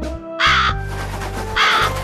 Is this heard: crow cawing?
yes